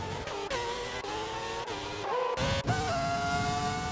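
Formula 1 race car engines in the racing game F1 2020 at Silverstone, including a Ferrari, whining at high revs with rising and falling pitch through gear changes, several cars close together and loud throughout.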